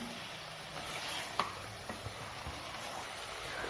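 Chicken and onions sizzle and sauté in a pan for a home-style chicken curry, a soft steady frying hiss with occasional faint scrapes and taps from stirring.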